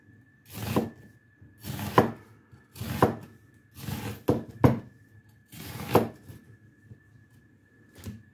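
A knife chops an onion on a cutting board in distinct bursts of several quick strikes, roughly once a second, close and fairly crisp with pauses between.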